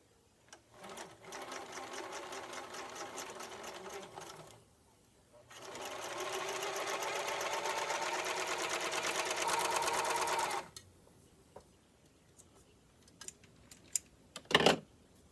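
A White Lock serger sews and trims fabric in two close, loud bursts of rapid mechanical chatter, a shorter run followed by a longer one, then falls quiet apart from a few light clicks and handling noises.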